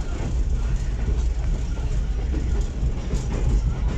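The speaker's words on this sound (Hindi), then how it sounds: "महल एक्सप्रेस इस वक्त अप्रोच कर रही है सनावा रेलवे स्टेशन पर" The Mehr Express rolls along the rails near Sanawan station, a steady, loud rumble of wheels and carriage noise filling the whole stretch without a break.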